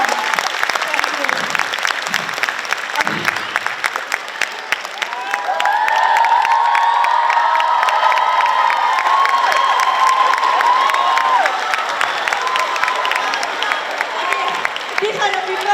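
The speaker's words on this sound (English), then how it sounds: "Can you give a round of applause for them too?" A large audience applauds and cheers after a school drama performance, with steady crowd clapping, excited shouts and children's voices rising in the middle and continuing throughout, loud and close.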